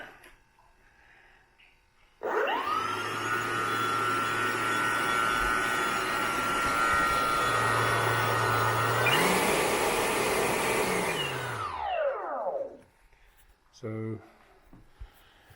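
An Avios MiG-17 Fresco RC jet model's electric ducted fan spools up to a loud, steady whine, climbs higher on a throttle push, then winds down and cuts off, with a few faint clicks after.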